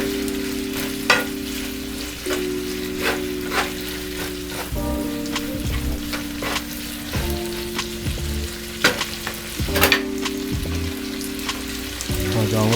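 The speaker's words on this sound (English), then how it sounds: "I'm going to go ahead and get this tossed." Curry shrimp pasta with wine tossed in a hot pan, a loud continuous sizzle and frying hiss with rhythmic scraping and clanking of the pan as it is tossed, no talking.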